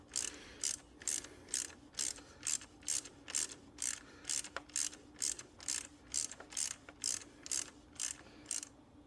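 A ratchet wrench runs an Audi fuel injector stud down into its threaded hole, giving a steady string of about seventeen sharp, close mechanical clicks in an even rhythm, with no talking.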